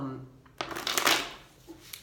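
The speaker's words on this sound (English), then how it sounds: "I like to give it a few more shuffles while I'm here speaking with you." A Rider tarot deck is riffled and shuffled up close, a quick burst of flapping card noise after a brief murmur of talk.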